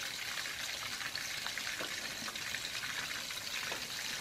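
Fish sizzles and spatters in a hot pan of oil, a dense, steady crackle with scattered pops. It is fairly quiet, with no talking.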